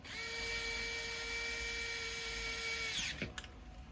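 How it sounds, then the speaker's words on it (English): Power drill driving a bolt into a work bed for a CEN Racing F450 RC crawler, a steady high whine for about three seconds that winds down as the bolt bottoms out, followed by small clicks, close and fairly quiet. "You can kind of hear when I stop driving the bolt in. When you get resistance, you'll hear it bottom out."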